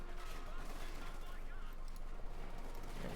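Bren gun and machine gun fire in the game Company of Heroes 2, a dense continuous stream of distant rattling bursts forming a steady battle din, heard faintly under a commentator's talk.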